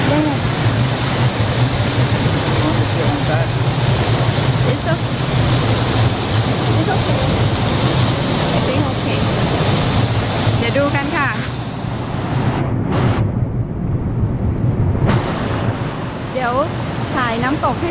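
Clear stream water near Wastwater in the Lake District rushes and splashes steadily and loudly, close to the microphone, with a few brief wind buffets toward the end.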